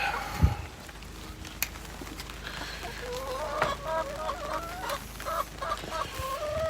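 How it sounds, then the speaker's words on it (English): Chickens in a coop give soft, repeated clucks and murmuring calls, with one sharp squawk near the start, all fairly quiet against a faint background. "Make sure all the chickens are good."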